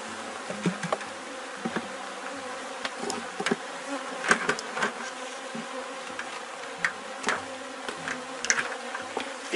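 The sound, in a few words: honey bees buzzing around an open hive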